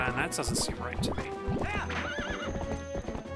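Video-game horse Epona from Zelda: Twilight Princess, with repeated hoof clip-clops and a whinny, close and clear under a person talking throughout.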